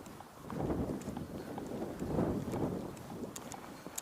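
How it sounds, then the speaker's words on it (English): Wind gusts buffet the microphone outdoors on a cold winter day, swelling and easing in two soft rushes over a low rumble. "So it's kind of windy, definitely cold."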